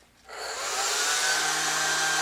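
An air-powered hover soccer disc switches on after a brief quiet moment, its fan building into a steady, close, loud whir that holds evenly to the end, with no talking.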